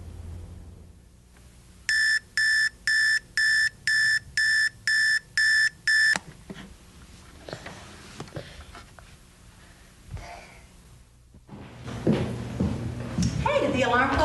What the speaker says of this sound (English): did the alarm clock wake you up?